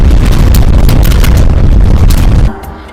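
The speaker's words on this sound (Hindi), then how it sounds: "अचानक ही एक बहुत बड़े धमाके की आवाज आई।" A loud explosion sound effect booms as a sudden, sustained, heavy roar for about two and a half seconds, then drops to a quiet fading rumble.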